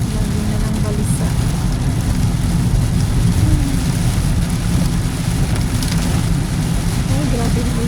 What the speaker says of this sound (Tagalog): Ay, grabe yung ulan.